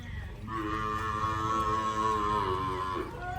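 A cow gives one long, drawn-out moo, loud and close, with a low rumble of background noise.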